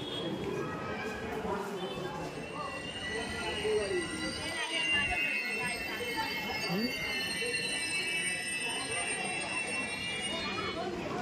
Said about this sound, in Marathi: इली ट्रेन इली